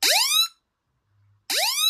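Emergency siren on an Apple Watch Ultra, made of two loud, piercing rising-and-falling tone bursts separated by about a second of near silence.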